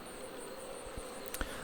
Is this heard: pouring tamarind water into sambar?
no